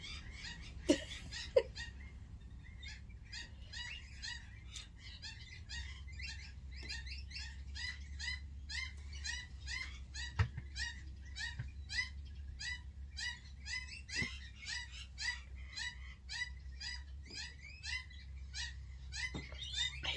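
A bird calls over and over toward parrots in a rapid, insistent series of sharp notes, loud and continuous, over a low background hum.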